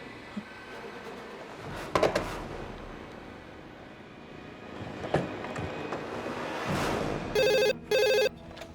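A telephone rings twice in quick bursts near the end, an electronic trill standing out over a faint, noisy room background with a few soft knocks and rustles earlier.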